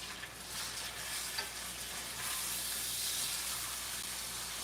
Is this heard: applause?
no